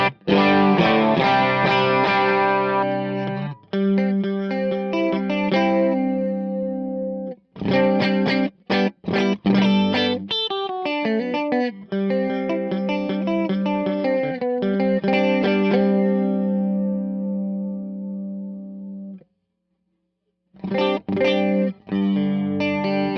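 Electric guitar through a Fractal FM9 modulation effect blended under the dry signal, swirling chorus-like chords and single-note runs with distortion, ringing sustained passages, a brief silence near the end, then more strums.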